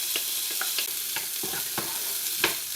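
Peas and potatoes fry with spices in a pan, a constant close sizzle under regular scraping strokes of a spoon stirring every half second or so.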